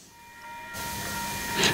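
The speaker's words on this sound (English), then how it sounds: "With the departure of your train, you start to feel how isolated this place is." A train pulls out of Wondabyne, a remote short-platform station with no road access in Australia, its steady rumble and hum building gradually and growing louder near the end, with no talk.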